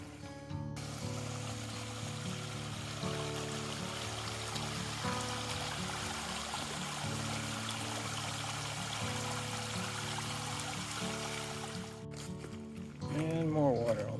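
Runoff water flows steadily across a mountain hiking trail near Whigg Meadow after Hurricane Ida. It makes a continuous, close rushing trickle that stays level throughout, with a brief voice near the end.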